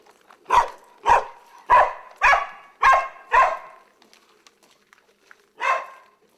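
Dog named Jojo barking close by, six sharp loud barks in an even rhythm, a short pause, then one more bark.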